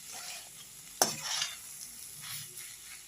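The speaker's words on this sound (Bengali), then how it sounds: "এটাকে একটু ভালো করে কষে নিচ্ছি মশলা দিয়ে" Kabuli chickpeas with winter vegetables being stir-fried with spices, no onion or garlic, for ghugni: a soft continuous sizzle with a sharp spatula clack near the start and gentle scraping strokes after.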